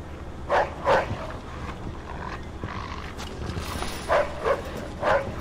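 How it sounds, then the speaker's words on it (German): A dog in the video game Mafia 2 barks repeatedly in irregular bursts amid a busy, noisy game soundscape, fairly loud and without talk. "Da ist der Köter."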